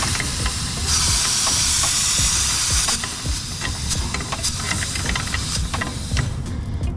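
Refrigerant gas hisses out steadily and loudly while a fan-cycling pressure control is screwed onto a fitting, with small metallic clicks and handling noises over the continuous rush.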